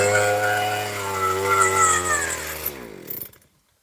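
A power drill bores deep into a wooden post while a long bench is being built in front of a house. It gives a loud, steady motor whine that winds down and stops near the end, with no talk.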